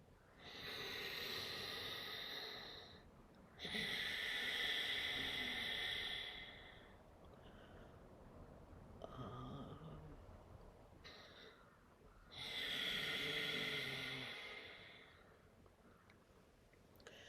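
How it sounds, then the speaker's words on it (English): Ujjayi breathing during pranayama: slow, audible inhalations and exhalations with a hissing, airy throat friction, several long breaths separated by quieter pauses, close and intimate. "So your inhalations and exhalations make a sound because you've brought a little bit of friction in your throat."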